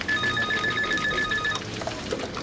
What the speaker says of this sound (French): Oui, non, téléphone.